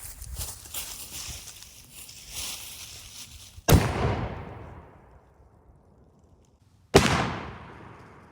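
Two sharp, loud blasts from a homemade cannon firing a bouncy ball at a freezer outdoors, each a sudden boom with a long decaying echo, spaced about three seconds apart after a stretch of faint rustling background.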